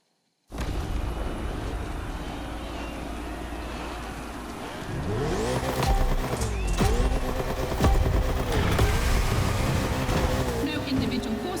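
A race car roars and its tires squeal in The Crew Motorfest video game, with engine pitch rising and falling through shifts, loud and close.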